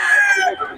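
A single rooster crow rings out close by at a poultry market in Bocaue, a strained, drawn-out call that trails off, with a bit of clucking after.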